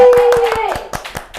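A small group of people clapping in a steady rhythm, a quick run of sharp, close claps, with a voice audible at the start.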